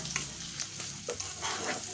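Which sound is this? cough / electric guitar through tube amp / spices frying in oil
spices frying in oil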